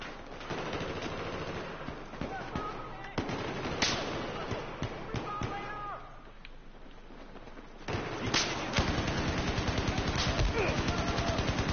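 Battlefield 4 gunfire: dense automatic bursts and single shots crackling almost nonstop, loud and close, with a heavier sustained barrage near the end.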